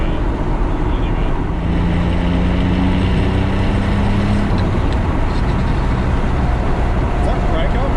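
A custom turbocharged VR V6 Commodore ute with new manifolds, LS coils and two-step roars loudly as it accelerates hard, a continuous engine drone with rising tones and heavy cabin rumble, voices speaking over it.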